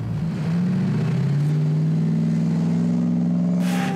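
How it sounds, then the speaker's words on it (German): A V8 engine in a Ghe-o Rescue off-road vehicle revs loud and close, its deep drone swelling and climbing steadily in pitch, with a brief hiss near the end. "Das ist V8-Sound"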